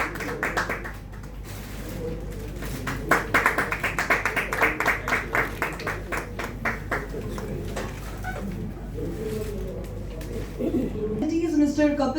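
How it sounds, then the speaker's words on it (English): An audience claps at a cultural talk on Mauritian Geet Gawai and India–Mauritius ties. A burst of applause builds around the middle and then fades, with a voice and room sounds before and after. "Kindly give it a round of applause."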